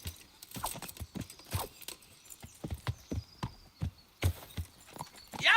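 Horse hooves clip-clop in Kingdom Come: Deliverance, a steady run of distinct thuds with a brief whinny-like burst near the end, close and clear with no talk.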